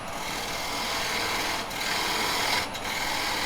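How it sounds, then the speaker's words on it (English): A 3/8 spindle gouge cuts wood on a lathe with a continuous, steady hissing scrape that dips briefly twice as the tool lifts, heard close and alone without talk. "I'm going to take this off with a spindle gouge"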